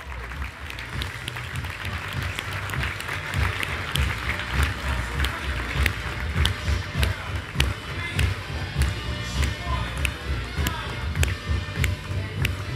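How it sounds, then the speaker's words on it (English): A large conference audience breaks into long, hearty applause, a thick roar of clapping with some crisp nearby claps standing out. It swells slightly and holds strong throughout, with faint voices underneath. "So let's give them a big round of applause."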